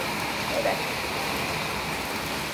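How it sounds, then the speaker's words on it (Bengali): Heavy rain pours down steadily, a dense, continuous wash of hissing noise with no breaks, filling the whole stretch at an even, loud level. "তো বন্ধুরা এখন দারুণ বৃষ্টি পড়ছে"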